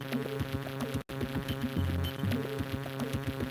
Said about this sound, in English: this doesn't solve the problem of this other annoying buzzing noise